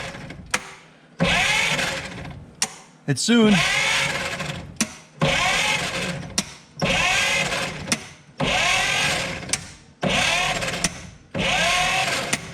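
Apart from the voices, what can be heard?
hammer wrench tapping stuck valve on old Dodge truck engine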